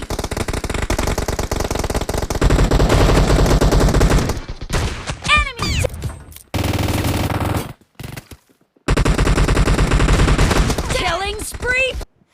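Shotgun fire in the mobile battle-royale game PUBG Mobile: loud, dense bursts of gunfire broken by short silences, with game announcer voice callouts and whooshing effects mixed in.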